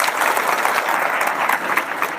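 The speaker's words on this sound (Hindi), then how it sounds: "तालियां" Dense, continuous applause from a large audience at an Adivasi rights conference in Junnar, Pune, steady and close throughout with no pauses.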